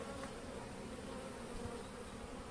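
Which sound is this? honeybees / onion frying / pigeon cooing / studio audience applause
honeybees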